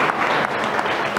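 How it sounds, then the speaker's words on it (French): An audience at a round-table session of a nuclear colloquium claps, a brief, steady burst of close applause filling the whole moment. "On peut l'applaudir également."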